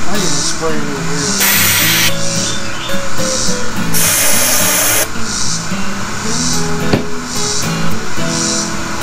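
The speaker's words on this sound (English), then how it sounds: "I need to spray it in here." Bursts of aerosol cleaner spray hiss in short blasts into a 1959 Johnson Super Seahorse 35hp outboard motor, loud and close, over a busy background with tonal music-like sounds.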